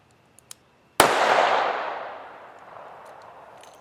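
A Taurus Judge revolver fires a single .410 shell loaded with 000 buckshot on an indoor range, a sharp, loud blast that rings out and decays over a couple of seconds after a few faint clicks.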